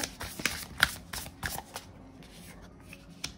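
Tarot cards are shuffled by hand for a reading, giving a series of quick riffling flicks and soft slaps close by, busiest at first and then thinning out to a few scattered taps.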